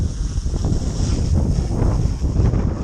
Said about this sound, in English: It's pretty windy out today now